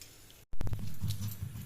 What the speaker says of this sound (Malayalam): പച്ചമുളക് ജീരകം ഒരു അര ടീസ്പൂണ് പിന്നെ കുരുമുളക് ഇത് നമുക്ക് നന്നായിട്ടൊന്ന് ചതച്ചെടുക്കാം